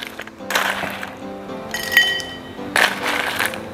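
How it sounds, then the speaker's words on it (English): Ice cubes clinking as they drop into three drinking glasses for lemongrass and blue pea tea, in two or three bright clattering bursts with quieter rattling between. "Put some ice in."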